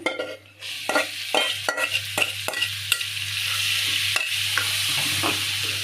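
Green leafy vegetables (shak) are tipped into a hot pan and stirred. A close, steady sizzle is punctuated by repeated sharp scraping stir strokes, with a low constant hum beneath and no voices.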